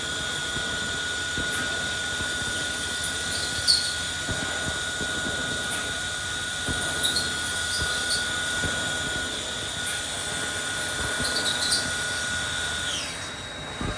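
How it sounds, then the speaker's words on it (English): A Haas VF0 CNC vertical machining center drills a few holes in a part, giving a steady high machine whine and hum with faint periodic chirps as the tool cuts, with no voices. "Drilling a few holes."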